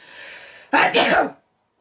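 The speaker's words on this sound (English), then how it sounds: "Audience sneezes" A single loud sneeze from an audience member bursts out close by during a live podcast show, after a faint background murmur, then the sound drops to silence.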